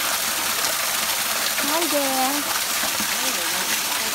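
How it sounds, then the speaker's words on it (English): Small Gero no Taki waterfall in Gero, Japan, a steady broadband rush of falling water close by, with a brief spoken greeting over it. "It's a fall named after a frog."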